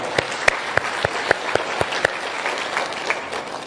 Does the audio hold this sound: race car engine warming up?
no